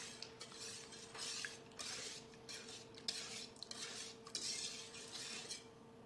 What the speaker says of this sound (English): whisk until we get rid of all the lumps